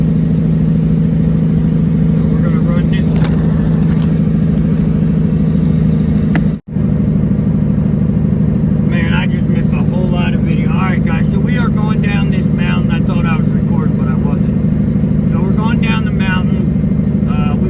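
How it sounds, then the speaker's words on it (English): A Detroit 12.7 semi truck engine runs downhill in 8th gear on three-stage jake brakes, a loud, steady low drone throughout with a brief dropout, and someone talks over it in the second half. "We're in 8th gear, 3-stage Jake brakes, just letting the truck do the work"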